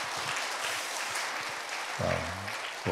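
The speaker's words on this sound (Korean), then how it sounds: "우리 박수로 격려하겠습니다" An audience at a church sermon clapping in encouragement, a moderate steady patter of hands, with a voice breaking in briefly over it near the middle and at the end.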